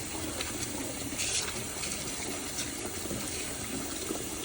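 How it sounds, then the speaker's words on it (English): Tap water runs steadily into a sink while beef tendon is washed, a soft continuous splashing stream with faint irregular spatters, close and quiet, no voices. "we need to wash our beef tendon. Wash it thoroughly."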